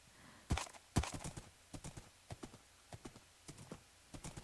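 Horse hooves clip-clopping in Minecraft: a couple of sharp, loud strikes followed by a steady run of lighter, evenly spaced clops, close and clear with no talk.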